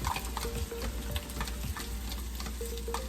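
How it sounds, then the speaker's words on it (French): Egg yolks are stirred into rice in a pan for garlic fried rice, giving a steady low sizzle with repeated close scrapes and taps of the spoon against the pan, and no voices. "mélangez bien les jaunes d'œufs avec votre riz"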